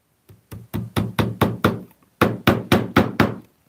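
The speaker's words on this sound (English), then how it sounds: "I'm hammering it at a bit of a weird angle to try and avoid that trunk corner" A hammer drives brass pins into a leather-covered plywood trunk near its corner, striking sharp, close knocks in two quick bursts of about six and five even blows, separated by a short pause.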